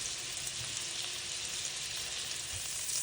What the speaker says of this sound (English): once your butter is melted, I'm gonna throw on my patty, let that cook